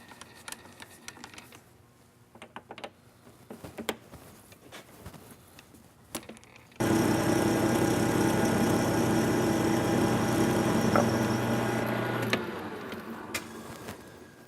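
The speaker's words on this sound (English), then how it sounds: "I'm just going to machine it down" A metal lathe turning a ring down, starting with scattered clicks and taps before the machine cuts in with a loud, steady whirring hum that holds for about six seconds and then stops, leaving more faint clicks.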